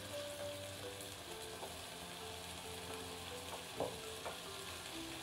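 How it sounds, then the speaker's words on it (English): Chicken with spring onion and chopped chili frying in a pan, a steady soft sizzle broken by occasional scrapes and clinks as it is stirred, with no voices. "Just stir it gently and let it all brown."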